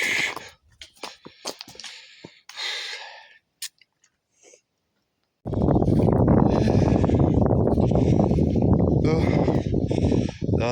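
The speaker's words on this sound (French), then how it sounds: "Alors, désolé pour le vent." Strong wind buffets the microphone in a loud, steady roar for the second half, after a stretch of scattered voices and quiet pauses, outdoors near waterfalls.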